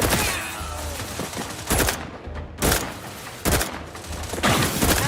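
Gunfire in the video game Outer Worlds 2, loud repeated bursts of shots in clustered volleys with short gaps between them, no talking.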